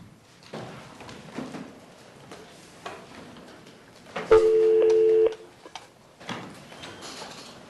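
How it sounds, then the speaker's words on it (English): Telephone dialing while reconnecting a caller in a courtroom hearing: soft clicks and faint murmurs, then a loud steady electronic tone for about a second, with more quiet rustling and handling noise afterward. "Let me see if I can get Mr. Flood back on the phone"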